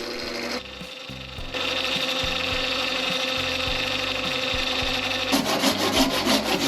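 A hand saw cuts through a wooden blank to split a box bottom from its lid, making a loud, close, continuous rasping that picks up into faster, harsher strokes near the end.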